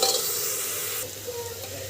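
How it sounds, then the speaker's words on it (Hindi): Onions fry in a pan, giving a close, steady sizzle that softens slightly after a brief stir partway through, with no talking. "इस प्याज को हम अच्छे से भून लेंगे।"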